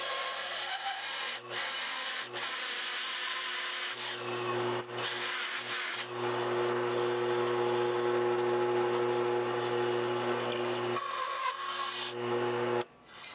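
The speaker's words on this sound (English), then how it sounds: "I cut it out with a hole saw and the drill press" A hole saw chucked in a drill press bores through wood, a steady rasping, grinding cut with a constant motor hum underneath, close and fairly loud, with short pauses where the load changes.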